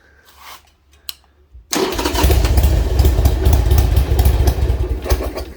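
A Harley-Davidson motorcycle with a ticking engine fault; after a few seconds of near silence with a faint knock, the engine fires up and settles into a loud, close, rough running note with irregular pulsing.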